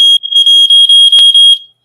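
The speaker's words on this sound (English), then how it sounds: "The smoke alarm." A loud, piercing smoke alarm chirps in a rapid series of about six shrill beeps, then cuts off and fades.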